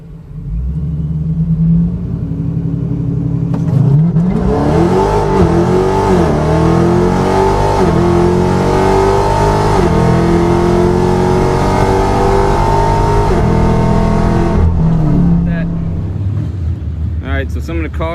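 A 2018 Scat Pack and a Whipple-supercharged 5.7 car race a quarter mile at a drag strip with a loud rumbling idle, then a sustained roaring acceleration with rising engine pitch that fades out near the end.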